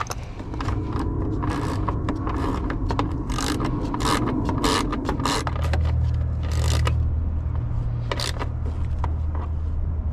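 A ratchet fitted with an 8mm socket and a 6-inch extension tightens a car battery terminal on a Ford Fusion, giving close, rapid bursts of clicking and scraping with a low mechanical hum underneath.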